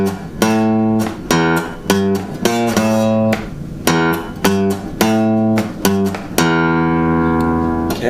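A riff is played on acoustic guitar: bright, loud strummed chord stabs in the familiar stop-start rhythm, ending on a longer ringing chord.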